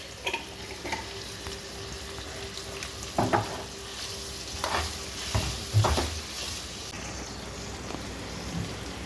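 Ridge gourd peel frying in a pan, a soft sizzle under intermittent scraping stirs and clinks of a spatula, fairly quiet and close.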